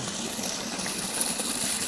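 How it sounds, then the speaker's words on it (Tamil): Steady, forceful rush of water pumped by an 1100W BLDC solar motor pouring from a 3-inch delivery pipe, a continuous loud gushing with no pauses and no voices. "3 இன்ச்சு பைப்பு தண்ணி ஃபுல்லாக குதிக்குது."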